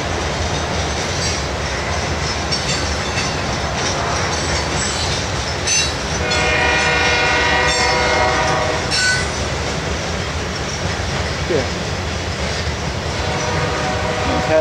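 A freight train hauled by NS, CSX and BN EMD locomotives passes close and loud with a continuous rumble, clattering wheels and squealing flanges, and the horn sounds partway through.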